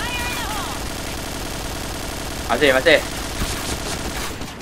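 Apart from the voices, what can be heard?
gunfire in a PUBG video game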